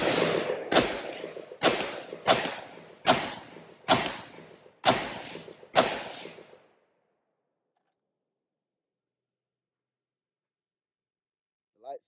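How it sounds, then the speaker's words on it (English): Eight sharp gunshots from a Brownell's 180S pistol fitted with a Crimson Trace Rapid Illumination Grip, fired outdoors on an overcast, rainy day at a steady pace of one roughly every 0.7 seconds, loud and close, followed by silence. "just going to take a few shots here"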